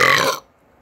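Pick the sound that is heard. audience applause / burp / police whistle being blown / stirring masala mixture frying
burp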